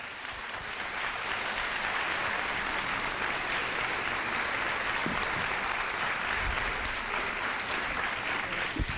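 Steady, loud applause from a pageant audience honoring the helpers of a Ms. Senior America Missouri event, dense clapping sustained evenly for the full stretch with no voices over it.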